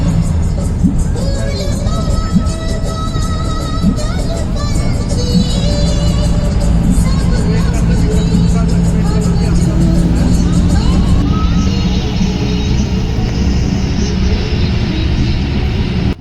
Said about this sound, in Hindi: चंबा से ही बस अभी आ रही है लक्ष्मी बस जो है